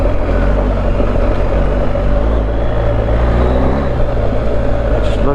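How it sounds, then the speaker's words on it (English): A motorbike rides over gravel with its rear wheel spinning up, producing a loud continuous engine roar and rumble that stays steady and close throughout. "Just look, getting that back end spinning up."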